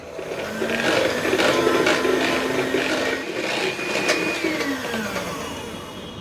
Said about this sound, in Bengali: এই মিক্সচার দিয়ে এটাকে ফেটে নিই।